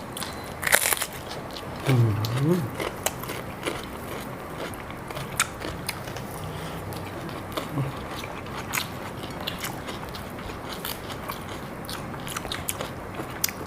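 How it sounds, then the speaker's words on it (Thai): Someone bites and chews rice with vegetables and fermented fish chili paste, making close crunches and crackles early on, then quieter intermittent chewing. Brief voices occur. "กินกับข้าวแล้วก็ผักนี่กำลังพอดีเลยเนาะ"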